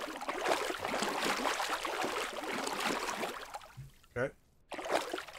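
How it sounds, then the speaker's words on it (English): Steady splashing and sloshing from a character swimming and treading water in a zombie survival game, a continuous loud wash that drops out briefly near the end and then resumes, with someone speaking briefly. "That water noise is loud."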